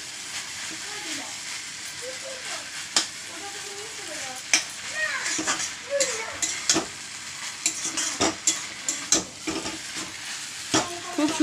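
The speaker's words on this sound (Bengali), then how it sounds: "খুব সুন্দর করে নাড়ানাড়ি করে ভেজে নিতে হচ্ছে।" Chowmein is stir-fried in a pan with a steady sizzle punctuated by repeated sharp spatula clanks and scrapes that grow busier, with a voice faintly in the background.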